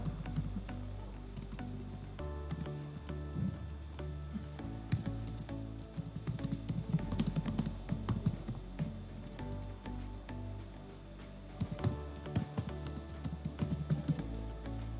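Fingers type on a computer keyboard in a steady, fairly close run of clicks and taps, bunching into quick bursts with short pauses and no voices.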